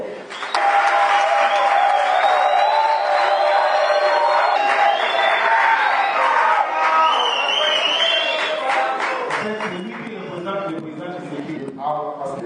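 A political party rally audience, UDPS youth, applauding loudly, a dense sustained clapping that fades slightly toward the end, with a voice speaking over it.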